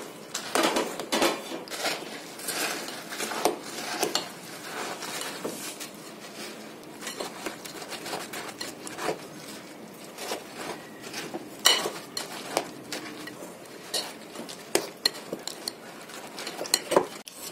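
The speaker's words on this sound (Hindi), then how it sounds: "अब इनको अच्छे से मिक्स करेगी।" Crushed Oreo biscuits being stirred into ice cream in a bowl, a steady run of close scraping and clinking spoon strokes with irregular sharp taps against the dish, no voices.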